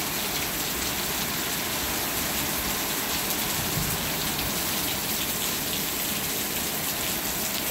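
Heavy monsoon rain in Apache Junction pours steadily onto surfaces, a dense, constant hiss and patter of water with no break across the whole stretch, close and loud with no voices.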